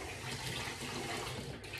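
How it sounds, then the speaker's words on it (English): Warm water running and rinsing a sink during cleaning, a brief steady rushing splash with no talking. "So give it a good rinse, do some warm water,"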